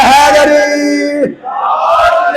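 A crowd at a Shia religious gathering raises its voice together in the slogan "Haidari", a loud, sustained collective shout that falls away briefly and then swells again, with mixed voices blending into one roar.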